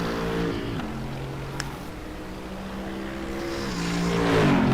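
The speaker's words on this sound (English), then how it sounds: "Shami Aizan is now going to go across the line in 7th place." GT3 race car engine at Spa during a warm-up race, a steady loud roar with shifting harmonic pitch as it crosses the finish line, surging louder near the end with no talk over it.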